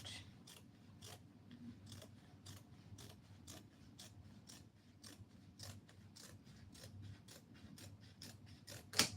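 Scissors cutting fabric for a dress make faint, evenly spaced snipping clicks in a quiet room, repeating steadily throughout.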